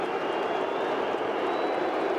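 A vocal stadium crowd at a night AFL elimination final between Adelaide and Essendon keeps up a dense, steady roar of voices, loud and unbroken, with no distinct breaks or peaks.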